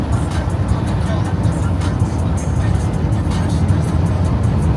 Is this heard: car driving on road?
yes